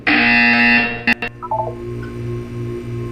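In the video game Portal 2, a loud electronic buzzer sounds in a sustained tone that cuts off after about a second, followed by a few short blips and a low pulsing hum.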